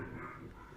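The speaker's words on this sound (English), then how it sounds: "sorry about the barking dogs" Dogs bark during a thunderstorm, heard as a faint, brief, distant bark under a muffled, rumbling background.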